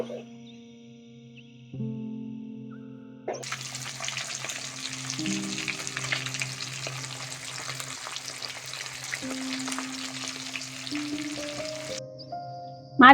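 Small chela fish frying in hot oil, a loud steady sizzle up close that rises sharply after a quiet start and runs for several seconds, with a tonal musical background and no speech.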